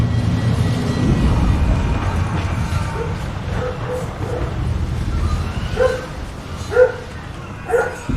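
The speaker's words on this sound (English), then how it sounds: "And my dog is barking." A dog barks a few times in short yips over a steady low rumble of background noise, with the barks growing sharper toward the end.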